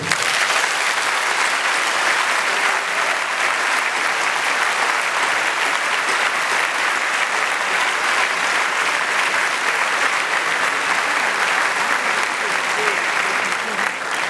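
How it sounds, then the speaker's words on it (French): Sustained audience applause for graduating students at a Solvay graduation ceremony, a dense, even wash of many hands clapping in a large hall, loud and unbroken throughout. "On peut les applaudir."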